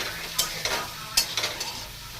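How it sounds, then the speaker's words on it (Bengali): Onions fry in a pan with a soft continuous sizzle, punctuated by a few quick metallic stirring clicks and scrapes, heard up close with no talking. "আর এখানে এই যে পেঁয়াজ ভাজা হচ্ছে"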